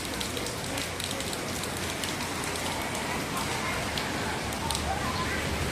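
Heavy rain pours down steadily at a temple in Kaohsiung, a dense unbroken hiss of drops on surfaces that holds at the same loud level throughout, with no voices.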